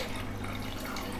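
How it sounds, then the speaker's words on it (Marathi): Plenty of water goes into a cooking pot of Konkani-style tomato saar, a soft, steady trickling and splashing heard close but fairly quiet, with no talking. "आता घालूया भरपूर असा पाणी जेवढा तुमका हव्या तितक्या."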